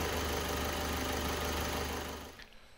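A newly installed 4D20 car engine idles at a low, steady hum with faint ticking, running evenly before dropping away abruptly near the end.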